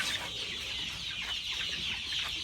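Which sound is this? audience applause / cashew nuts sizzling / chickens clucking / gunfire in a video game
chickens clucking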